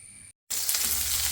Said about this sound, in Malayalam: കടുക് പൊട്ടിച്ചു, ഉലുവ ഇട്ടു,